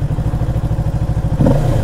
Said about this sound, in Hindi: मतलब इंजन ऐसा रेव करने में लग रहा है कि भाई क्या ही ज़्यादा स्पोर्टी आवाज़ आ रही है।